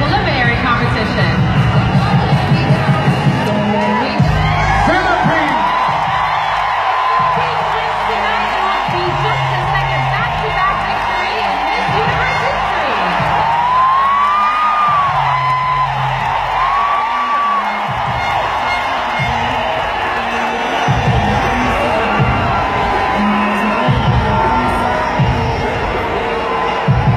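A large audience at the Miss Universe 2016 swimsuit competition cheers loudly for Miss Colombia, continuous crowd roar with whoops and rhythmic chanting throughout, an announcer's voice audible over it.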